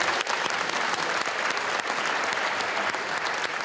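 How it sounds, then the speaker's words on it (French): Warm, dense applause fills the room from a sizeable audience, steady and unbroken throughout the short stretch. "Je voudrais qu'on l'applaudisse chaleureusement."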